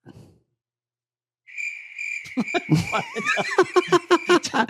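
A steady, high cricket chirp starts after a brief silence, overlapped by bursts of laughter and chuckling.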